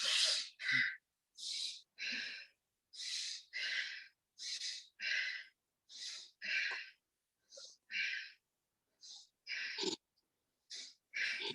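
Repeated sharp breaths drawn through the nose and mouth during a vagus nerve breathing exercise, about fifteen short separate inhale bursts in an uneven rhythm, close and clear against silence.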